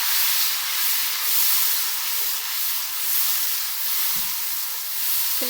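Paste of tomato, onion and green chilli hitting hot oil in a pan for a kofta curry, a loud, steady broadband hiss and sizzle that pulses gently, with no talking.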